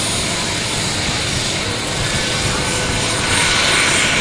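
A Jakadofsky turbine of about 5 kW drives an XXL-scale RC JetRanger helicopter with a 3.5 m rotor, giving a loud, continuous roar and whine that holds steady throughout.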